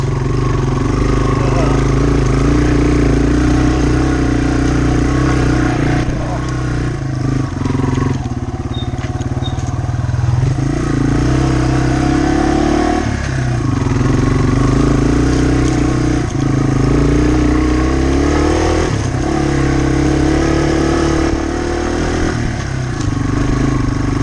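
A Yamaha TW200 motorcycle rides through woods, its engine droning continuously and rising and falling as the rider shifts gears, with someone talking over the motor throughout.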